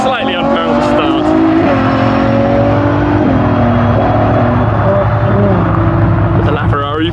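Hypercars drag race side by side, among them a LaFerrari with a hybrid 6.3 litre V12, engines revving hard through rising gear pulls, loud and near, with a voice speaking over the roar.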